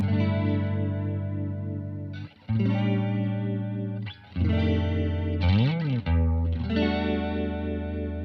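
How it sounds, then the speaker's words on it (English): Sustained electric guitar chords with a wavering vibrato effect from a Boss MD500 pedal, played in several phrases with brief gaps, including a bending pitch swoop near the end. "I'm using the foot switch on the MD500 now to go to this vibrato sound"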